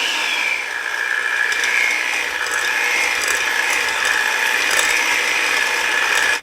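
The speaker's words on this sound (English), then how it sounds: "I have my 8-ounce softened cream cheese, and I'm going to mix this up" An electric mixer beats 8 ounces of softened cream cheese in a bowl, giving a loud, steady, close whirring drone with a rattling mechanical edge.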